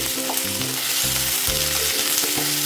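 Chopped onions and tomatoes fry in a pan, sizzling loudly and steadily up close as a spoon stirs and turns them, with no voices.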